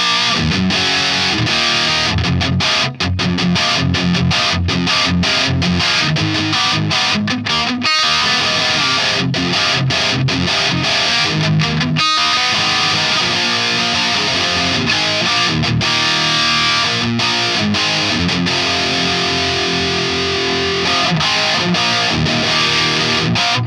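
An electric guitar plays through a Boutique Baby Cantrell amp with the reverb off: loud, continuous distorted riffing with choppy palm-muted stops and dense sustained chords, close and dry.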